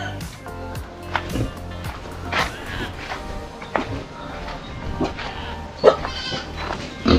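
Goats bleat repeatedly in a farm backyard near pigpens, with several short wavering cries close by over a busy background of rustling and animal noise.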